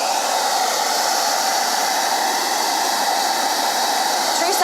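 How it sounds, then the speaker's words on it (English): A blow dryer runs steadily on a painted pizza pan, giving a constant loud whooshing hiss at an even level for the whole stretch, with no pauses and no voices. "I'll hit this again with the blow dryer."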